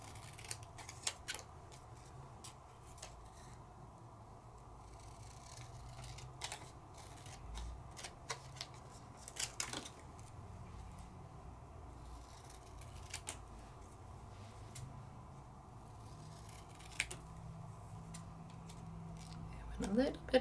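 Scissors snip in sparse, quiet clicks as they trim out a paper craft piece, with soft rustling and handling noise in between and a voice talking over them.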